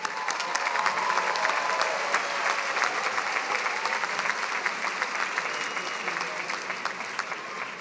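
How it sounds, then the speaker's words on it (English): Steady round of applause from a commencement audience for doctoral graduates at a USC Price ceremony, even dense clapping throughout with little variation. "Let's give a round of applause to the doctoral graduates."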